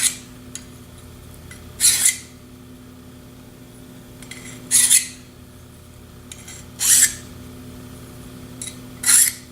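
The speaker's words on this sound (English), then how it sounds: "Deburring my part." A hand file deburrs a metal drill gauge part, giving four separate rasping strokes spaced a couple of seconds apart, each short and bright, close by against a faint steady hum, with no talking.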